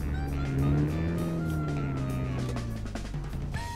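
Car moving slowly forward during a driving lesson, a steady low engine hum with a gently rising and falling tone, close and continuous.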